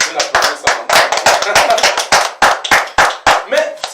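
An audience at a 15th-anniversary broadcast event claps in a loud, fast, rhythmic stream of sharp hand claps, close and continuous throughout with no talking.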